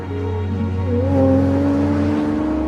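A Pagani Zonda road car pulls away with a steady, rising engine drone and harmonic whine that swells briefly before starting to ease off, heard alone with no voices.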